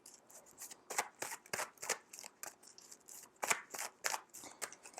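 Tarot cards are shuffled and handled in a quick run of crisp riffling snaps and slaps, close and fairly quiet, with short pauses between bursts and no voices.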